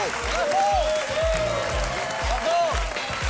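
A studio audience applauds a departing quiz show contestant, steady broadband clapping running throughout while music with sustained tones and rhythmic low beats plays underneath.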